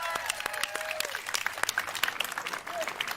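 Audience applause and cheering for Jordan at a gaming showcase, a crowd clapping steadily with scattered whoops and shouts at moderate distance, alongside an announcer's voice and some electronic tones.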